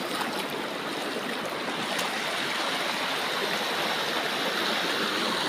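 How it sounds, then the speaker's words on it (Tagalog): A forest stream flowing in San Mateo, Rizal, a steady loud broadband rush of water close by, continuous throughout with no talk. "May sapa dito."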